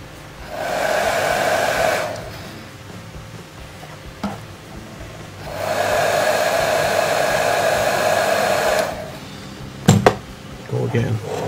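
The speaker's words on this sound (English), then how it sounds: "A little with the air dryer." An air dryer blows in two sustained bursts of steady whooshing onto a painted model of an Egyptian BMP-1, with quiet pauses between and a brief clack near the end.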